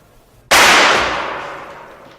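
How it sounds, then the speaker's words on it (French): Pistol shot in a French radio mystery drama, one sharp firecracker-like bang after near silence, loud and close, with a reverberant tail that fades over about a second and a half. "Vous avez entendu? C'était un coup de pétard?"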